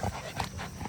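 A dog named Milan pants quickly and steadily up close, breathy rhythmic huffs filling the short moment with no talking.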